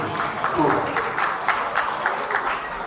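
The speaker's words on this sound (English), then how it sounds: "a nice round of applause to Mr." Guests at a wedding reception clap for the newly married couple, a steady patter of applause with some crowd noise and a voice over it.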